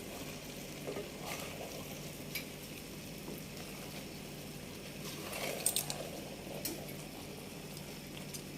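Sliced onions are stirred into a pot of beef pulao with rice, a soft steady sizzle and bubbling under faint scraping and a few light clinks of the utensil.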